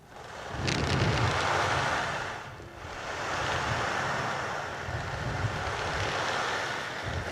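An instrument imitating sea waves makes a loud, washing surf-like swell that rises, dips briefly and surges again, sustained and roaring throughout.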